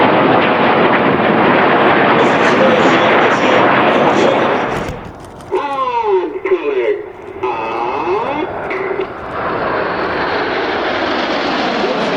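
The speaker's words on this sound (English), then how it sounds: "The aircraft slowing down to only 120 miles an hour." Red Arrows jets at an air show, a loud sustained roar of engines overhead that fades midway as a commentator speaks over a public address system, then builds again.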